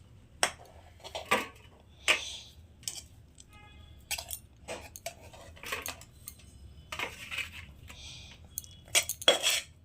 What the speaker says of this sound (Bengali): এবার এটাকে আমি একটা প্লেটে ঢেলে নেব